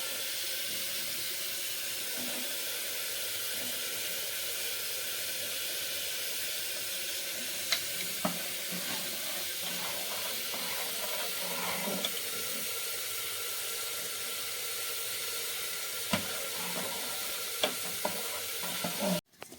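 Cashews go into payesh cooking on the stove, producing a steady, fairly quiet broadband sizzle and hiss with occasional soft stirring taps and clicks throughout, close and without talk.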